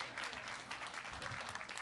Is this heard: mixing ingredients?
no